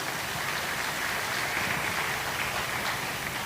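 A church congregation gives the Sunday school teachers warm, sustained applause, a steady dense wash of clapping heard alone without speech.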